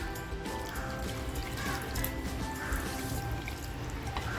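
Hot water pours steadily into a pot of mutton curry, a continuous trickling wash with no speech.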